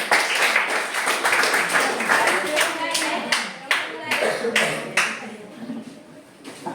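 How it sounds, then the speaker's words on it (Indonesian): Schoolchildren clapping their hands in an Indonesian class, a run of fairly close, sharp claps that come in quick, slightly uneven bursts. The rhythm loosens and the clapping thins toward the end. "Oke, tepuk tangan dulu."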